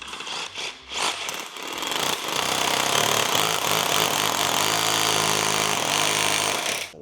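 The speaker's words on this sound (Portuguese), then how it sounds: "Vou ter que pegar o martelete." Rotary hammer drill boring into a wall during a home sound-system installation, a loud continuous rattling, hammering roar that starts with a few short bursts and then runs steadily, with no talk.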